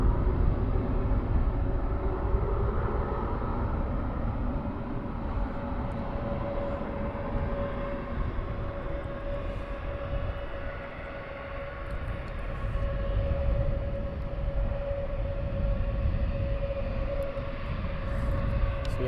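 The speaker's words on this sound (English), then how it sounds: "So we have 2 Wizzairs taxiing." Two Wizz Air airliners taxi at Luton Airport, producing a continuous low engine rumble with a steady whining tone that swells and dips slightly over about twenty seconds, heard from a distance with no talk.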